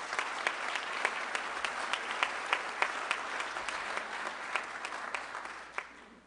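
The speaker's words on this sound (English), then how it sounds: "Give them applause." Audience applause for newly inducted Rotarians at a Rotary District 5450 club gathering, a steady patter of many hands with a few sharper claps poking through, moderately distant and without voices over it.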